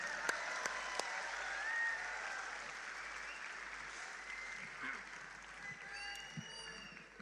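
Audience applause at a live Hindi stand-up comedy show, a steady, fairly distant wash of clapping that holds through the whole stretch with a few louder claps near the start.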